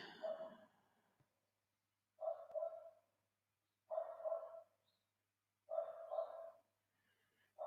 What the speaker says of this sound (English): that's one of the puppies going nuts